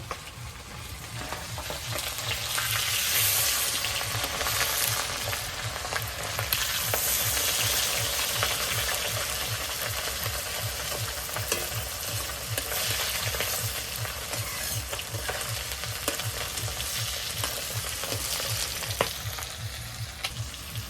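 Steady sizzling of sea fish frying one at a time in hot oil in a pan, continuous and close, with occasional stirring scrapes and no talking.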